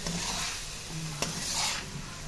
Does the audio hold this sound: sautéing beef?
yes